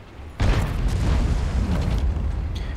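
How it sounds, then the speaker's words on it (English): A T95 tank in World of Tanks fires a blind shot: a sudden heavy boom that erupts close and loud, then rumbles and sustains for a couple of seconds. "Now T95 will go with a blind shot soon"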